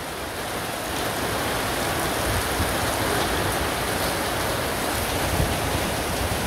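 Dense, steady rain pours down in Jhenaidah Sadar, Bangladesh, in an unbroken roaring hiss, close and loud, with no voices.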